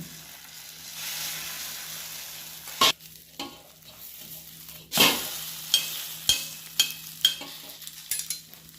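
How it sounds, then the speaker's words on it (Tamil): Egg fries over a bun in a pan with a quiet, low sizzle, broken by sharp utensil taps and scrapes against the pan, one after another, and no voices. "அந்த பன்னுக்கு மேலேயே நம்ம இன்னும் கொஞ்சம் முட்டை ஊற்றிடணும். ஊற்றிட்டு திருப்பி போட்டுடணும்."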